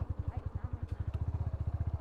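A motorcycle engine idles with a rapid, steady low thumping pulse close by while the bike is being moved.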